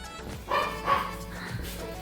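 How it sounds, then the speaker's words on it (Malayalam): A dog at home gives two short barks close together at moderate distance, heard over faint household background noise. "അവിടെ ആര് കുരയ്ക്കണത്?"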